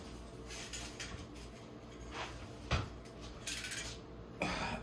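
Someone rummages for a box cutter, producing faint, scattered metallic clinks and light knocks against a quiet background, with a few sharper taps toward the end.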